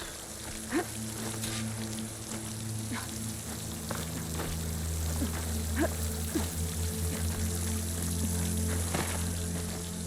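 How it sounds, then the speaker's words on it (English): Water flowing toward a rock wall near a waterfall in the video game Horizon Forbidden West, a steady wash of running water with scattered droplet-like splashes over a low ambient hum, continuous and even throughout. "The water's flowing into the wall."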